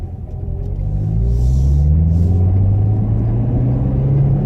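A Corvette Grand Sport's engine gives a loud, close, low rumbling drone that climbs steadily in pitch as the revs rise and the cold tires slip on a chilly road.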